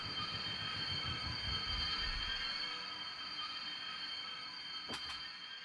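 Train in the Infinite Rails video game rolling to a halt, a steady loud rumble with low clatter that eases toward the end, then a brief sharp squeal or hiss near the finish.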